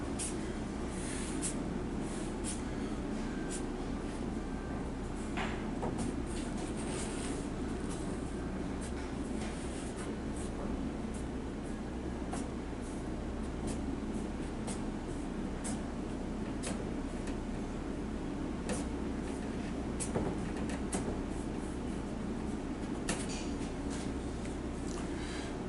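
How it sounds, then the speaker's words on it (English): Marks made every 3 inches along a car wheel tub during installation: faint, scattered scratchy ticks and short strokes over a steady low background hum, with no talking. "I go every 3 inches and I make a mark"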